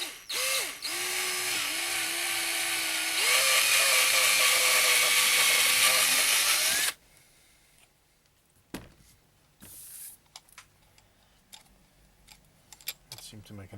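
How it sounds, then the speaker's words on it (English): A power drill with a 7/32 inch bit whines loudly for about seven seconds, its pitch rising as it bores a hole, then stops, followed by quiet handling clicks and rattles. "So let me get a drill and we'll do that. Okay, so I chose a 7/32 inch drill bit."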